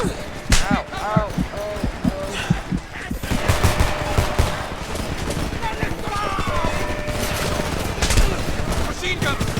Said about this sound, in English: Machine gun, first floor!